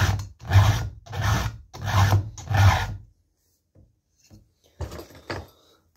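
A file rasps across chainsaw teeth in five strong, evenly spaced strokes during sharpening, then a few faint scrapes and clicks follow.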